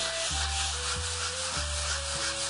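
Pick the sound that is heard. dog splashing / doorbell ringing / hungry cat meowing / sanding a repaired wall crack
sanding a repaired wall crack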